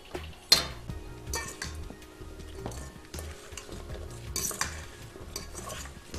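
Food is stirred and mixed in a sizzling pan, with a utensil scraping and clinking against the metal in irregular close strokes under a low fry.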